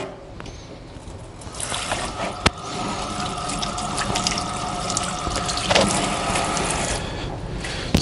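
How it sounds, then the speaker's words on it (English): A kitchen tap runs steadily while greasy hands are rinsed of fat beneath it, a continuous splashing wash with a few small clanks, and no talking. "Just gonna rinse to get some of that fat off of my hands."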